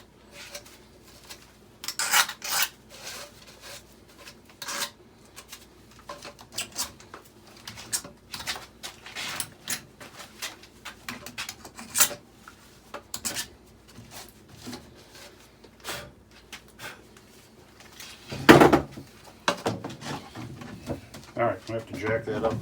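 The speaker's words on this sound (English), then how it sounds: "You just want to clean these burrs off." Hand file scraping burrs off the cut ends of new pipes, short irregular rasping strokes mixed with light clinks and handling noise, fairly faint.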